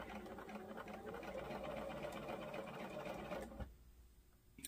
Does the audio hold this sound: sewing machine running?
yes